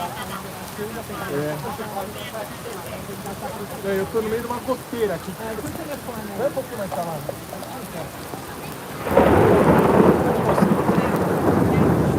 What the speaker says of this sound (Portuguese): mega chuva